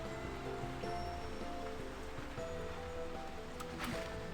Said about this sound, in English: Is it just me, or is the map showing slime rain as well as rain and lightning?